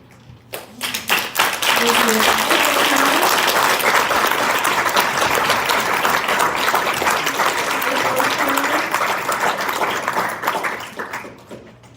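Audience applause at a Metro Council meeting: loud, dense clapping swells up after a short pause, holds steady for several seconds, then fades, with a voice talking faintly underneath.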